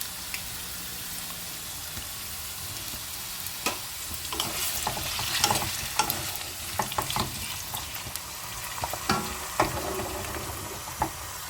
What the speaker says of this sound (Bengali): আলু আর পেঁপেটা আমি একসাথে ভেজে নেব